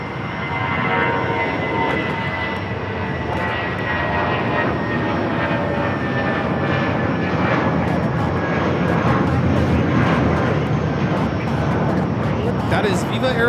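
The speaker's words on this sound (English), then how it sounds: "taking off to Guadalajara on the A320, painted in the Tigres UANL special colors" Airbus A320 in Tigres UANL special livery takes off at LAX, a steady broad engine roar holding loud for the whole stretch, with people talking over it.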